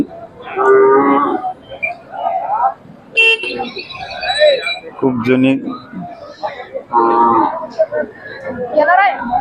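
Khillar cattle moo and low at the cattle market in Sangola, Solapur, with people talking nearby and a vehicle horn tooting in the background.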